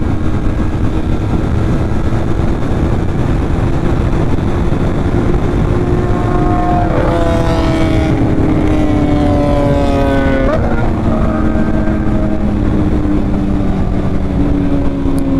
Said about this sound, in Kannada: ಲೀಟರ್ ಕ್ಲಾಸ್ ಗಾಡಿಗಳ ಸೌಂಡ್ ಕೇಳೋಕ್ಕೆ ಮಜಾ